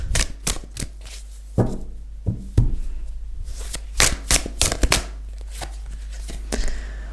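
Tarot cards being shuffled by hand, close and crisp, with rapid riffling flutters broken by sharp slaps and taps as the deck is squared and cut, no voices.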